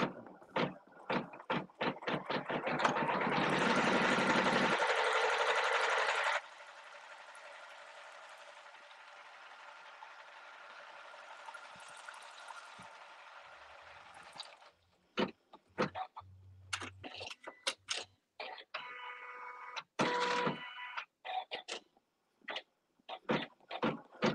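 A quilting machine stitches a Meadow Star barn quilt pattern through many layers, with a steady loud mechanical whir for several seconds followed by quieter running and a series of irregular clicks and short bursts.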